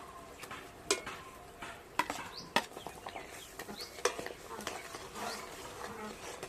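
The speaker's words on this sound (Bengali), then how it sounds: "আর এইভাবে করে কিন্তু খুন্তি নাড়াতে থাকবো।" Chickpea dal paste being stirred with a spatula in a pan over low heat for a Bengali sweet, giving soft scraping and irregular clicking taps that are close and faint, with no talking.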